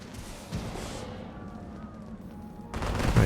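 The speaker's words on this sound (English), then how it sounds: "Man, those fireworks are kind of loud, aren't they?" Fireworks going off in a theme park in the game Planet Coaster 2, scattered pops and crackles over a low rumble, swelling into a louder burst at the end.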